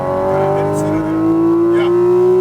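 Porsche 718 Cayman GT4 RS on a racetrack, its engine note climbing steadily as it accelerates, loud and close from the cabin, with an instructor's voice talking over it.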